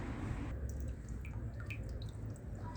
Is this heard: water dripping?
yes